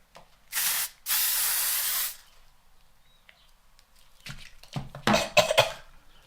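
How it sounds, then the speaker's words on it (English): L'Oreal Infallible 3-second setting mist sprays in two close, loud hissing bursts, a brief one followed by a longer one of about a second. Later come a cough and some throat clearing. "this L'Oreal Infallible 3-second setting mist. Have you heard of this? It's like a hairspray. So, and it sprays up."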